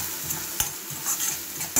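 Garlic chutney paste is stirred in a hot frying pan, with a soft continuous sizzle under a few scraping strokes of a spoon and one sharp tap against the pan near the end.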